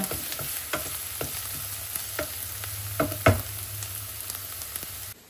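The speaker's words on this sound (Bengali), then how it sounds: "এখানে চলছে পেঁয়াজ ভাজা।" Onions fry in a pan with a continuous low sizzle. Regular scraping strokes from stirring repeat about once a second, close and moderately quiet, with no talking.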